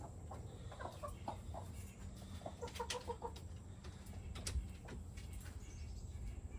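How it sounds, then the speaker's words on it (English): A chicken clucks softly inside a coop, with a few short calls over low background rumble and scuffling, faint and close by. "didn't take long for a chicken to come in"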